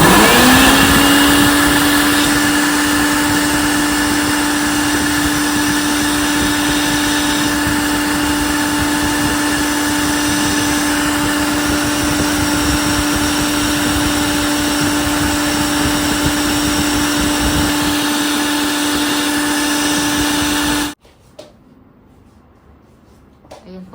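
A loud, steady motorized pump flushing a clogged, leaking air conditioner drain pipe drones with a constant whine for about twenty seconds, then cuts off abruptly, leaving quiet background.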